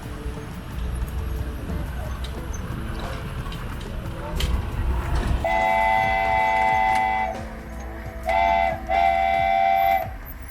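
The Agadir petite tourist train rolls through city streets with a steady rumble of the ride, then a melodic horn sounds twice, the second time in two bursts, while a voice talks over it.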